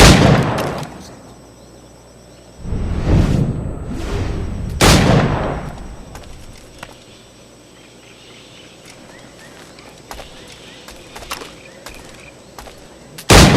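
Firearms from the pirate-era game Assassin's Creed Black Flag go off in several loud, booming shots, followed by a quieter stretch of ambient outdoor sound with faint birds and one more sharp report at the end.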